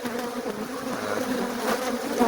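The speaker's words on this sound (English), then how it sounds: "the bees are just so defensive" Defensive honey bees at a hive in a wall cavity buzz in a dense, continuous drone, close and steady with individual bees passing nearby.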